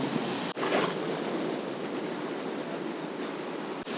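Waves wash onto a beach on a grey, wet day at Byron Bay, a steady broadband roar of surf with some wind, continuous and fairly loud with no voices.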